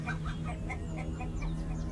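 A chicken clucks in repeated short bursts while being held and coiled by a snake, the hen's calls steady and moderately close over a low constant hum.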